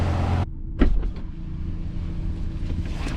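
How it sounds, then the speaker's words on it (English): A 2020 BMW M235i Gran Coupe starts by remote starter. A background sound cuts off, then a short mechanical thump is followed by a steady, low idle hum. No voices are heard. "Remote starter activates and it gets it warmed up ready for us."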